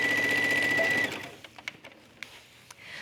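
Sewing machine stitching a seam on a cuff trim: a close, steady mechanical whir for about a second that then stops, followed by a few faint clicks and fabric handling.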